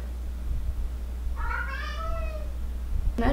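A single drawn-out meow from a house cat rises and falls mid-clip over a low, steady room hum, followed by a brief sharp sound at the end.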